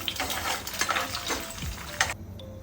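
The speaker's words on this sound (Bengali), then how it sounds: "দিয়ে পুরো ডিমটাকে একটু ভেজে দেবো" Whole beaten egg with a sprinkle of salt frying in a pan, a soft close sizzle with a few spatula scrapes, ending abruptly in quiet.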